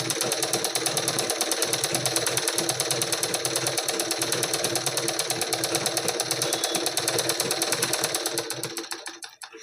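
A sewing machine running steadily while sewing a double stitch on a blouse, a fast even mechanical whir and clatter lasting several seconds, close and loud, then stopping at the end.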